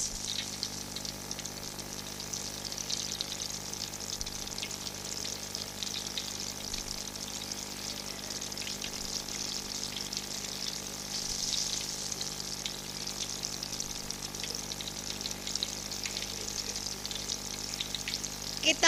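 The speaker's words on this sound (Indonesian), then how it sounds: "kita goreng semua ya sampai habis" Crispy milkfish coated in fried chicken flour frying in hot oil, a steady bright sizzle that holds for the whole stretch with no talk.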